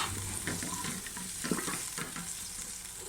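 Yogurt-based masala sizzling in hot oil in a pan for mutton curry while a spoon stirs it, a steady close crackle broken by occasional scraping strokes.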